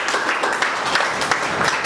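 A meeting audience claps for latecomers in a steady, moderately loud patter of applause that continues briefly without speech.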